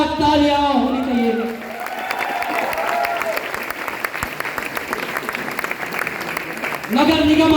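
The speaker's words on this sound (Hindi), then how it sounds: "जोरदार तालियां होनी चाहिए।" Loud crowd applause for guests at a company event, clapping and cheering building in the middle while a host's amplified voice speaks at the start and end.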